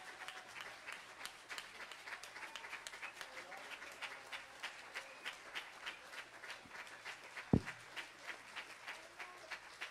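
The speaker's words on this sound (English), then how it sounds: "let's give them a hand clap of appreciation" Church congregation at a Sunday service giving a round of hand claps, a rapid, even rhythmic clapping that carries through the whole stretch at moderate distance, with a louder knock near the end.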